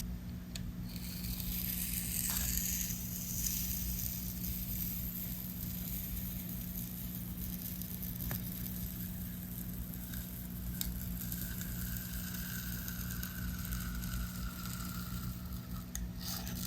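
A steady, quiet rasping of a blade cutting through styrofoam to shape a model stair, a continuous scratchy friction with no talk.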